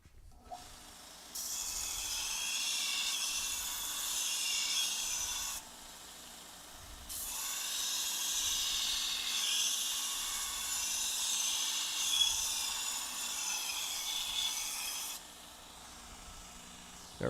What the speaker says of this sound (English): Let me sharpen this up.